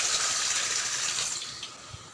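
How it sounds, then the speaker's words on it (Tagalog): Water running from a tap into a basin for washing the face and hands, a steady bright hiss that eases slightly toward the end. "Tapos naglalagay na ako ng tubig at nagsimula na akong maghugas."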